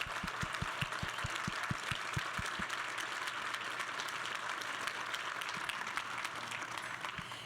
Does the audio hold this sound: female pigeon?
no